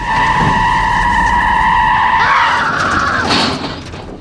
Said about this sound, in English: the dude literally brakes hard